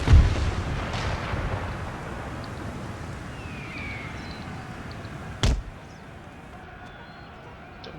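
Artillery cannons firing in an Empire Total War battle: a heavy boom at the start and another sharp blast midway, with distant rumbling battlefield noise and faint whistling projectiles in between.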